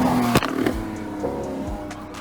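A Lamborghini Aventador Ultimae with its standard exhaust drives past on a Brisbane street, with a sharp crackle as it downshifts close by, then its engine note falling away as it passes.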